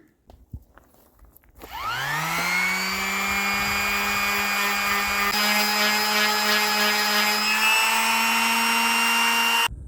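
A power sander spins up from quiet and holds a steady high-pitched whine, loud and close, running continuously for several seconds while sanding paint off a John Deere 27D mini excavator.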